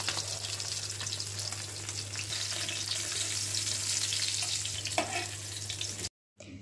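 Koi fish fry in a pan of oil with a loud, dense, continuous sizzle and crackle heard up close, broken by a brief clatter near the end, with no voices.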